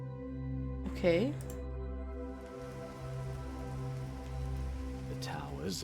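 Steady rain falls in a video game on a dark, rainy morning, a soft continuous patter under sustained musical tones, with a few brief voice-like sounds and no clear speech.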